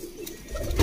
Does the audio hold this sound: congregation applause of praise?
no